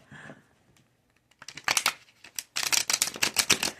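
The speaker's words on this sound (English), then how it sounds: "I'm going to shuffle 3 times." Quick riffling and flapping of tarot cards being shuffled, a faint rustle followed by two louder bursts of card shuffling, close by.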